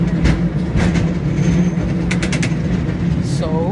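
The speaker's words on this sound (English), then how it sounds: "We ride on a tram train, electronic tram train." An electric tram runs through San Francisco, California, with a steady heavy rumble and rattle that fills the whole stretch, a few clacks along the way and a brief metallic squeal near the end.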